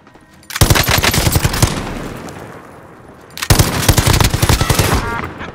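Heavy automatic gunfire in the Warzone video game: two loud, rapid bursts, the first lasting about a second, then a pause with a fading tail, then a second sustained burst.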